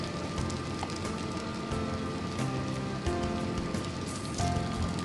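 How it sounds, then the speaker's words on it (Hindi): Potato pancakes shallow frying in oil in a wok, giving a dense, steady sizzle and crackle like falling rain, close and continuous with no talk. "अब इसको 5 to 6 मिनट्स शैलो फ्राई करेंगे"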